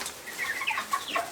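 Young meat-bird chickens in a brooder cluck and peep in quick, high, overlapping calls, close and lively, with no talking.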